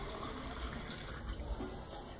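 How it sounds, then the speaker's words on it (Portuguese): Water runs steadily into a drinking glass for about two seconds, a soft continuous pour heard close up with no talking. "Vai colocar água,"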